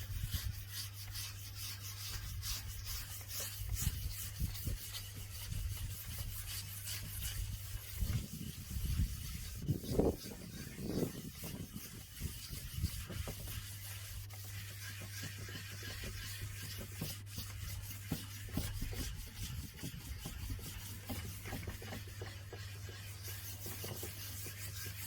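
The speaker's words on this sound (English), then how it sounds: "So you want this really nice sliding noise" A polishing stone slides steadily over tadelakt plaster, a continuous rubbing rasp with a soft rhythmic back-and-forth texture, close and even throughout, with a steady low hum underneath and no talking.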